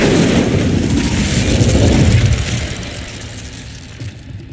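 An Incendio fire spell goes off in the Hogwarts Legacy video game, a loud booming burst of flame that roars for a couple of seconds and then fades away, with no talking.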